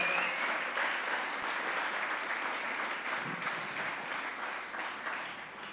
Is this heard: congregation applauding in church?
yes